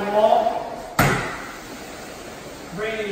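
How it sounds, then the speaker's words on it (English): Pocket sliding door panels, three of them, glide into the wall of a house, giving one sharp slam-like thud followed by a short rumbling slide, with someone talking before and after. "Have I shown you these pocket sliding doors? Look at this, folks. All three panels duck and hide behind the wall."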